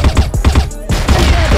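Rapid gunfire rattles through a tense clutch round of a competitive shooter game, several quick bursts of shots, loud and close, with a brief gap midway before the firing resumes.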